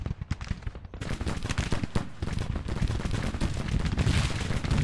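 Sharps rifles fire in a Civil War strategy game set at the Battle of Nashville: dense, continuous crackling volleys of many overlapping shots, growing fuller and louder through the clip.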